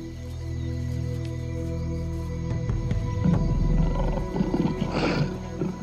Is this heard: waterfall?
no